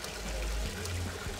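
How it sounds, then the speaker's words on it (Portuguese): Cold mountain water running from a spout near a mountaintop in Lebanon, a steady close pour with a splashing stream and no talk. "Quase no topo aqui das montanhas tem uma bica de água que deve estar um gelo."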